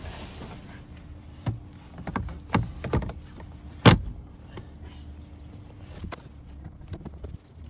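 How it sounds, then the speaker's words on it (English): The glove box of a 2019 Cadillac Escalade is pushed back into place: a few dull plastic knocks and taps, then one sharp, close snap as it clicks home, followed by quieter handling. "Now we can pop our glove box back in."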